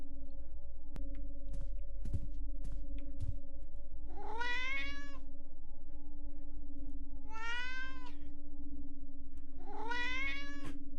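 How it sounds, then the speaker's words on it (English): A devil-horned kitty in the video game Massacre at the Mirage meows three times, drawn-out and plaintive, spaced several seconds apart over a steady electronic hum and a few soft clicks. "we're all here for the kitty with the devil horns, which you can interact with"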